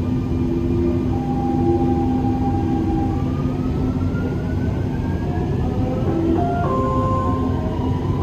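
A Dubai Metro Green Line train runs with a steady loud rumble and rail noise, along with faint tonal whines that slide in pitch as it moves.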